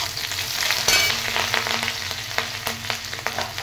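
Chopped green chillies frying in a pan for quinoa pulao give a steady, close sizzle, with sharp crackles and spatula stirring clicks scattered throughout.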